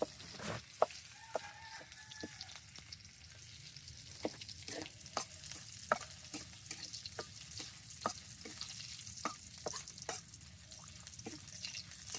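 Dried red chillies fry in very hot oil, a soft steady sizzle broken by sharp pops and stirring clicks, close but quiet, with no talking.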